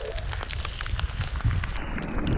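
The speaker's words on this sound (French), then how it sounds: "Ça grêle, ça grêle." Hail falling during a hike around the Vanoise glaciers, a dense, steady patter of small ice pellets hitting the ground and gear close by, continuous and fairly loud with no talk.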